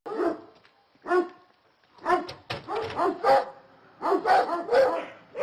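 Dogs in a rural village bark repeatedly nearby, sharp irregular bursts of barking and yips in quick clusters with short pauses between them.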